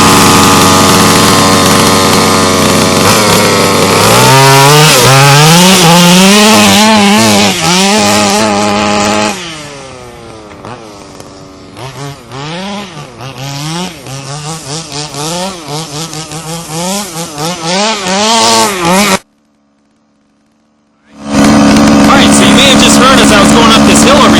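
Small gas engine of a Baja RC car fires up and runs, revving high and wavering up and down in pitch, loud and close, then cutting out briefly before roaring again.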